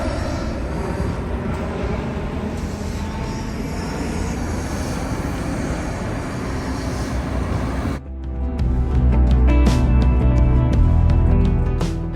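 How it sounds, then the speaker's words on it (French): A loud, broad engine roar fills the air continuously, swelling into a deeper, heavier rumble partway through, like an airplane passing low overhead. "Oh, il y a même un avion qui passe ici."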